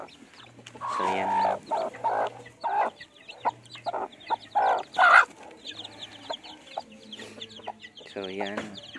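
Free-range hens and newly hatched chicks clucking nearby, with repeated throaty clucks and calls spaced by short pauses and soft high peeps between them.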